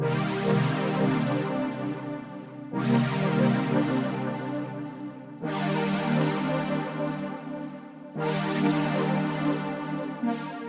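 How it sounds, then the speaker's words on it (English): A warm, sustained brass pad plays a slow sequence of four chords, each swelling in and held for a few seconds. "I'm going to upload a brass pad that I made in 2015, which is a simple, straightforward chord progression"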